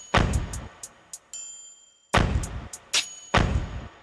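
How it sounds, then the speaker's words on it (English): A triangle sample in a drill beat, struck several times at shifting pitches; bright, ringing metallic tones sit over heavy, booming low thuds in a choppy pattern. "Next, we got a triangle, which hits at different pitches."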